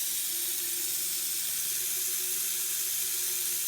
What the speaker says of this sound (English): you can actually wash it with water under the tap and it gets nicely clean again